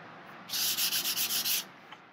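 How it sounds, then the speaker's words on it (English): Quick rhythmic back-and-forth light hand sanding of wooden furniture, about eight close, even strokes in a row, with no talking. "it's just a really quick, really light sanding"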